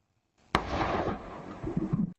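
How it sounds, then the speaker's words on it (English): A single sharp, close blast from a modern firearm, followed by roughly a second and a half of broad rumbling echo that trails off, with a few low thumps near the end. "That is a modern firearm."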